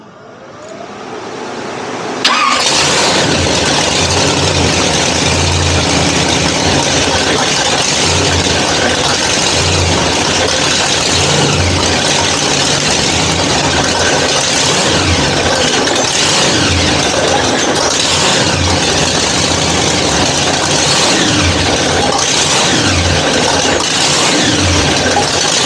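A car's engine fires up and runs hard during break-in, a loud, continuous mechanical roar with repeated rev bumps rising and falling, close to the microphone and with no voices.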